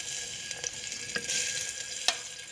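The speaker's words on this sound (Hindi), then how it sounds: "जिसी ऑयल में हमने गोश्त फ्राई किया था उसी में हम अब प्याज ऐड करेंगे" Sliced onions frying in hot oil left from browning meat in a karahi, a steady bright sizzle with a few sharper crackles and stirring scrapes, no talking.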